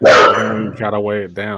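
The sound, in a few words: dog barking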